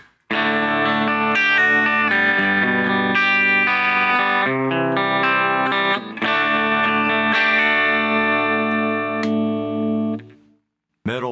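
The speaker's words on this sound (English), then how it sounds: "Okay, let's start with the clean tones. Bridge position." An Epiphone SG Special P90 electric guitar played clean on the bridge pickup rings out in strummed chords and picked notes for about ten seconds, close and fairly loud, then stops abruptly.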